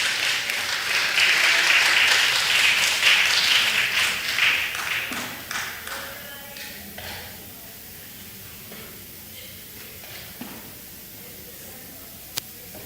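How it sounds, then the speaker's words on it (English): Church audience at a Christmas in the Bahamas program applauds a performer coming up to recite a poem. The clapping is loud and dense at first, then thins out and fades to scattered claps and quiet room noise. "Let's clap her up as she comes"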